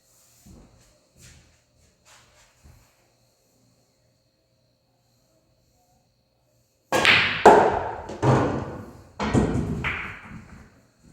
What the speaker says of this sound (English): that's your draw shot